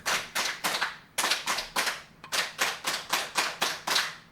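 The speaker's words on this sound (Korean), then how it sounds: "자, 3, 3, 7 박수 시작." Lecture audience at a Buddhist Yogacara class claps in the 3-3-7 rhythm: two crisp groups of three claps, then a run of seven, sharp and evenly paced with short pauses between groups, no talking.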